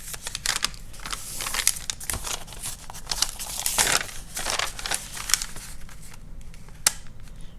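Sheets of paper for a spring journal craft are folded in half, giving close crinkling and crisp creasing rustles in irregular bursts, with a few sharp snaps, no talking.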